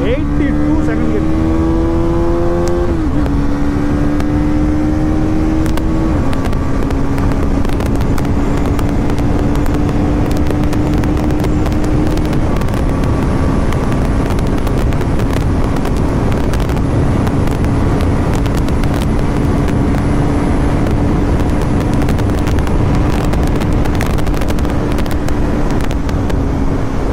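Bajaj Pulsar NS 400Z motorcycle running flat out at top speed: a loud, sustained engine whine whose pitch climbs with each gear change, buried in constant heavy wind roar, with a voice talking over it.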